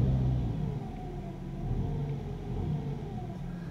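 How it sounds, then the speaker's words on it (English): A BMW F30 3 Series engine idles with a low, close rumble, then the throttle is pressed and it revs up in a moderate, even drone, with no voices heard. "Putting my foot on the throttle there, which is the RPM, you can see the RPM changing."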